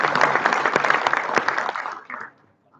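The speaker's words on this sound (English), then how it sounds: "One more round of applause for Carlos." An audience at a DevOps Days conference in Raleigh gives another round of applause for speaker Carlos, a brief burst of dense, close clapping that fades out within about two seconds.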